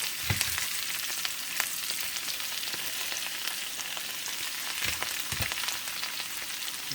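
Chicken pieces for kalua chicken fry in a pan with a continuous loud sizzle, scattered pops and crackles breaking through, and no talking.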